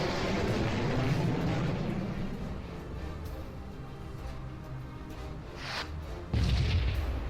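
Starship missile salvo in the space strategy game Sunrider: a loud, sustained rumbling barrage of launches and booms, dipping slightly midway before a heavy low impact swell near the end, with no voices.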